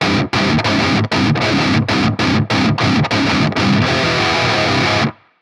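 Heavy metalcore guitar breakdown of palm-muted full distorted chords, loud chugging strums separated by sharp brief gaps in a stop-start rhythm, ending abruptly with nothing else heard.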